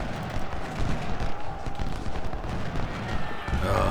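Rapid musket and gunfire volleys crackle against artillery batteries in an American Civil War battle in Ultimate General Civil War, a continuous loud fusillade with overlapping shots and distant rumbling, steady throughout.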